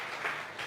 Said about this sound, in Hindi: जितने भी मेहमान हैं ताली बजा करके मंत्री साहब का स्वागत